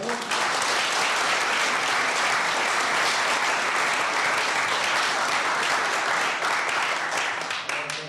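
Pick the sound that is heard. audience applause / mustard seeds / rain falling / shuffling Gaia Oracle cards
audience applause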